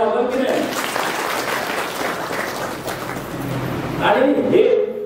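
A Marathi gathering breaks into broad applause for a family, a continuous wash of clapping that swells near the end, with voices heard over the clapping at the start and finish.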